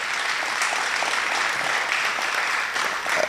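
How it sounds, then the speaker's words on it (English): A conference audience gives sustained, even applause, a thick wash of many hands clapping at a steady level throughout, close and full. "Let's give him another round of applause."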